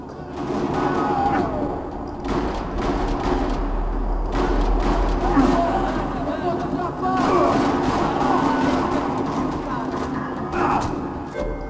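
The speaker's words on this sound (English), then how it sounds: "Another parking lot rattling with gunfire." Gunfire rattles through a parking lot in the video game Max Payne 3, bursts of shots and crashes over a constant rumbling bed, with talk over the action.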